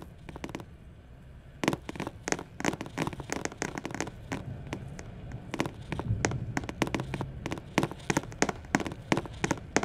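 Musket volleys in a Roblox line-infantry battle: many sharp cracks, irregular and scattered, some close and loud, others fainter and further off, popping over several seconds.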